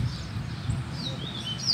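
Coleiro (double-collared seedeater) whistling in a series of short, thin, high calls over steady low background noise, moderately faint.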